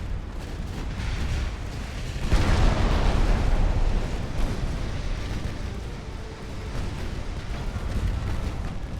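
Naval artillery from every battery of an 1890-era warship fires together in a naval battle, giving a sustained, rumbling barrage of heavy low booms that swells loudly and then holds as a dense roar.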